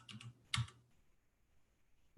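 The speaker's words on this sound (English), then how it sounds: "and I'm now going to type in" A few quick keystrokes on a computer keyboard while entering a location in Starry Night astronomy software, a short burst of clicks up close, then quiet room tone.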